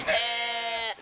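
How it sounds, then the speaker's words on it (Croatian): A single sheep bleats once for about a second, a steady, nasal, strongly voiced call that is close and fairly loud, with no talking around it. "Da vidimo gospodina ovca."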